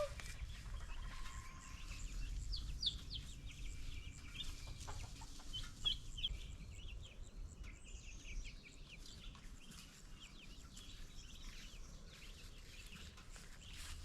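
Slate gray turkeys or chickens in a hot farm yard give scattered soft clucks and calls over steady low background noise, with no talking.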